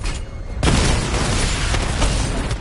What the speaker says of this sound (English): Missile barrage level 2